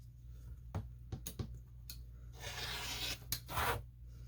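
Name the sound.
cutting quilt fabric with a cutter blade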